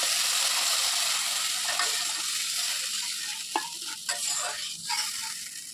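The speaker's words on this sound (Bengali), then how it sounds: "টমেটো দিয়ে নাড়াচাড়া করে" Tomatoes stirred in a pan for a tangra fish curry sizzle loudly at first, then fade. Scattered clinks and scrapes of a spoon against the pan follow near the end.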